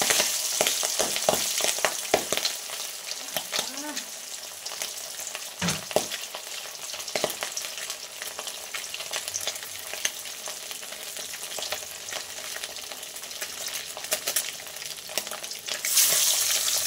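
Pabda fish frying in hot oil in a wok, a loud continuous sizzle with crackling spits and occasional scraping stirs, close and alone without talk.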